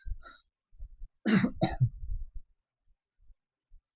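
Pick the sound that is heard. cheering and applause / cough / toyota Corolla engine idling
cough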